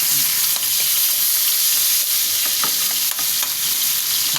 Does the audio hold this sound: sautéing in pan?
yes